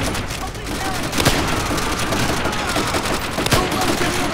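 Dense gunfire from Call of Duty: World at War in a USA versus Japan battle. Loud, continuous automatic fire with heavier bursts runs throughout, and shouted voices mix in underneath.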